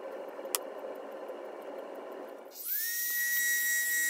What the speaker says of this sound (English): Here I'm cleaning up the cursor frames with the Dremel tool.